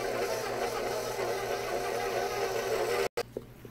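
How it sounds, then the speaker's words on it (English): A hand-held electric mixer runs steadily on cake pop dough, a continuous mid-pitched motor whir with a brief cutout near the end before it resumes more quietly. "you can turn off your mixer"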